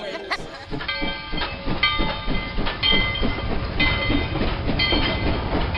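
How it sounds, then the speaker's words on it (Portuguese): Steam locomotive train rolling along rails, a rhythmic clickety-clack of wheels over track joints with hissing steam and a thrumming mechanical drone, close and loud throughout. "O deslizar pelos trilhos, a potência da máquina a vapor que esparrama fumaça pelos ares"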